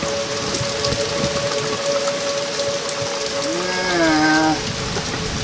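Steady, loud rain pours during a thunderstorm in Tulsa County, a dense hiss throughout with a brief rising and falling whistle-like tone near the end; no one speaks.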